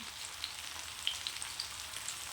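Fish sizzling quietly in hot oil with spicy chili paste coating, a soft steady crackle dotted with scattered faint pops.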